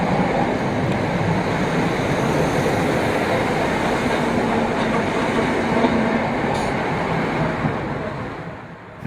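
A Class 319 third-rail electric multiple unit on the Thameslink route rushes past with a steady, loud rumble and rattle that stays even before fading away at the end.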